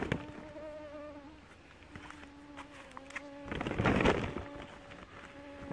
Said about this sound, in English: I meant the mosquitoes.